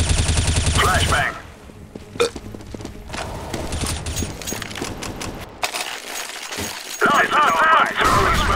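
Counter-Strike: Global Offensive match with a flashbang going off and gunfire: a loud bang with a shattering tail at the start, then scattered shots and clinks, and another burst of firing near the end.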